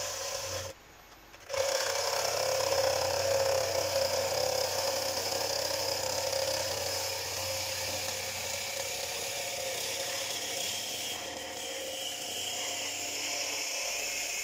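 A freshly sharpened woodturning gouge cuts a wooden bowl spinning on a lathe, a steady, close scraping and rasping that runs continuously after a brief pause near the start.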